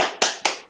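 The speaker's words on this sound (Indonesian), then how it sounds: "Tepuk semangat." Two sharp hand claps in quick succession, close and loud, from a teacher leading a classroom 'tepuk semangat' cheer, each clap with a short decaying tail.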